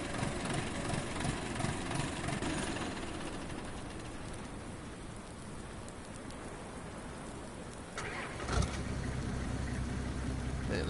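An old-fashioned tractor in Farming Simulator 2019 cranks and starts late in the clip with a sudden burst, then settles into a low steady idle after a stretch of rain-like hiss.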